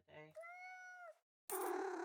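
A video game cat meows loudly and close: a short chirp flows into a long, steady sustained meow, followed after a short gap by a rougher, louder mewing burst.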